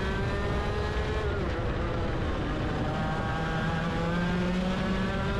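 A competition kart laps a racing circuit at over 100 km/h, its engine droning steadily at close range with a constant high-pitched whine and rising and falling pitch through the corners, running continuously without pauses.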